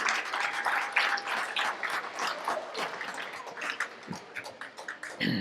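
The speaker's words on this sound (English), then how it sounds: "let's give Pastor Jones another round of applause here" Audience applause at a men's conference, a burst of clapping from the crowd that carries through the moment, dense and steady before thinning out toward the end, with a few louder individual claps and cheers mixed in.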